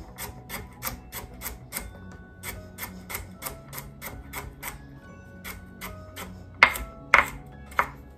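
A knife slices vegetables for beef lo mein on a cutting board in a steady run of crisp, evenly spaced taps, closing with a few louder, sharper chops.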